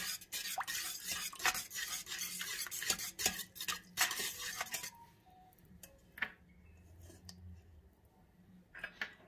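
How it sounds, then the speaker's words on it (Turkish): Two egg yolks and whites whisked together in a bowl, a fast, steady clatter of utensil against the bowl that stops midway, followed by a few faint clinks and quiet handling. "2 yumurtanın sarısını, bir sarısı, 2 de beyazını içine ilave edip artık güzelce karıştırıyorum"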